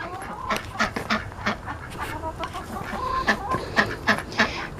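Backyard chickens cluck and squawk repeatedly nearby in an organic garden, a busy overlapping chorus of short calls.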